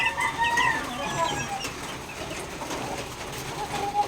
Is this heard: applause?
no